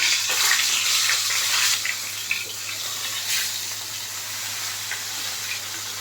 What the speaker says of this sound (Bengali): খুব ভালো করে কড়া করে ভেজে নিব।